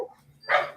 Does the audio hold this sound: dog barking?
yes